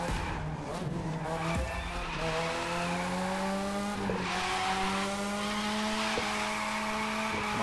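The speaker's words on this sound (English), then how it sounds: "You gain more points when you are, continuously drifting like I'm doing right now." A car drifts in The Crew 2 around the LA harbor, its engine droning at a sustained pitch that slowly climbs while tires squeal continuously and loudly, with a few sharp ticks cutting through.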